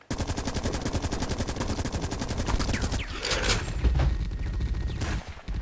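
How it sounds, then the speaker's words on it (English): A turret fires in the video game The Red Solstice, a loud, rapid, steady stream of automatic gunfire lasting about three seconds, then a burst of heavier blasts and mechanical noise, with no talking. "Turret down here, I'm gonna activate it."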